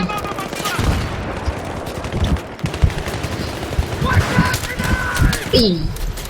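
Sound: gunfire in the video game Battlefield 3

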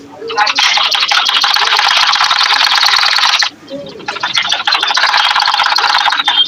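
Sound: sewing machine stitching a frock along the marked line

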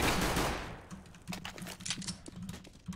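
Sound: gunfire in a shooter video game

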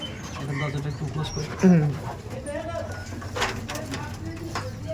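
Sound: pigeons cooing in a loft

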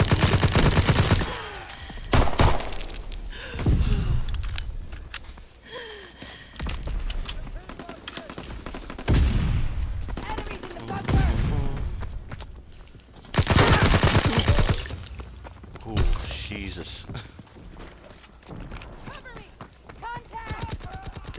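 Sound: gunfire in Call of Duty: WWII multiplayer, video game

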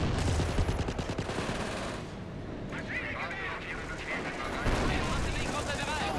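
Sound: artillery barrage on enemy base in Company of Heroes video game

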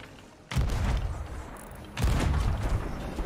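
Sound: cannon fire from ships in Sea of Thieves video game

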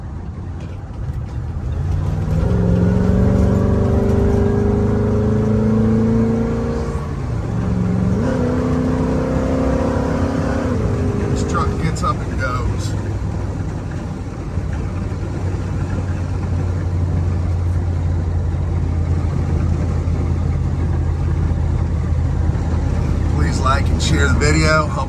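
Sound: 1978 Ford F250 460ci truck driving and accelerating

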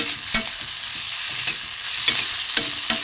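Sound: fish filling being sautéed with salt in a pan

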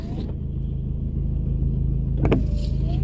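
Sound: car driving on the road

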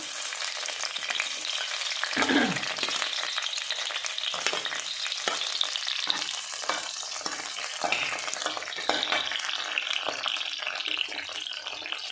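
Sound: shallow frying capsicum (bell pepper) on full flame

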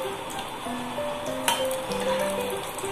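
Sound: cumin and cinnamon frying in oil

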